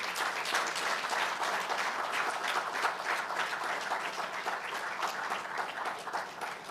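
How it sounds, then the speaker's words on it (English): Sustained applause from a large audience at a revenue-administration digitalization symposium, dense steady clapping lasting throughout at an even loudness with no speech over it. "let's give them a loud round of applause"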